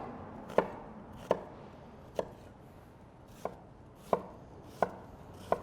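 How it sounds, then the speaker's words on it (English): Yellow onion being chopped on a cutting board, seven sharp knife strikes spaced irregularly about a second apart, close and clear with no talking. "we're gonna start with 2 cups of diced yellow onion"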